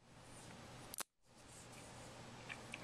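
A Leatherman Style PS multitool is folded shut, giving a single sharp metallic snap over quiet room hiss, close to the microphone.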